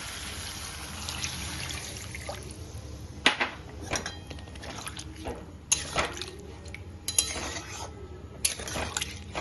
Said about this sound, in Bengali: আলুটা দিয়ে দুই একবার নেড়ে আমি দিয়ে দেবো জল